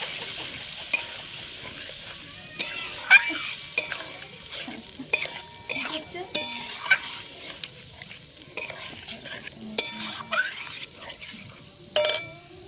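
Spice masala for a red country-chicken curry, chicken masala and chili powder mixed with water, stirred and fried in a pan: steady scraping stirs and soft sizzle with occasional utensil clinks, close and fairly loud, no talking.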